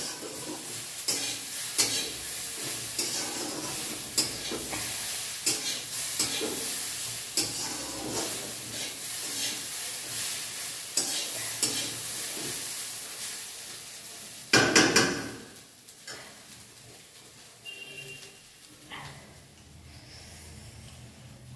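Cucumber slices frying in a hot pan, a steady close sizzle broken by repeated stirring scrapes and clinks of utensil on metal, with a sharp loud hiss burst midway before it settles to a quieter simmer.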